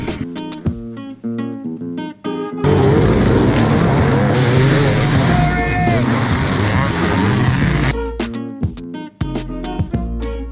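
Dirt bike race start in the Anahola Mountains, Kauai: a loud, dense roar of many engines bursts in together and holds steady for several seconds, with bursts of talk and music before and after.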